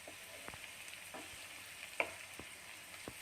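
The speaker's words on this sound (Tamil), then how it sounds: "இப்போ இதை மறுபடியும் ஒரு வாட்டி இதை நல்லா கிளறி விட்டுக்கலாம். பொறுமையாக கிளறி விடுங்க, ஏன்னா உருளைக்கிழங்கு ஓரளவு வெந்திருக்கும்." Potato fry stirred gently in a hot pan, a steady faint sizzle with sparse clicks and scrapes of the spoon, close and low in level with no voices.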